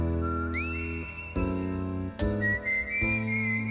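Haunting solo whistling in Billy Joel's song The Stranger, a clear sliding whistled melody line floating over a darker, jazzy piano ballad backing with sustained chords, no voices talking.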